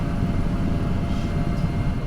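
Inside a 5.5-ton Sea King helicopter in flight, a loud, steady, rumbling drone of engine and rotor fills the cabin without a break, with no one talking.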